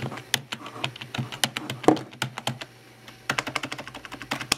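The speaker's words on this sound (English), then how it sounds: "G105 gaming keyboard" Keys on a Logitech G105 gaming keyboard are typed in quick close-up bursts of sharp clicks, a brief pause, then another rapid run of keystrokes.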